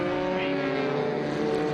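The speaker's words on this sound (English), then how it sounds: "Followed by Clements, Nicholas Clements, in that 1960 Porsche 356." A 1960 Porsche 356 race car at Circuit of the Americas, its engine droning with a steady harmonic tone as it runs past during an SVRA vintage race, fairly loud and sustained.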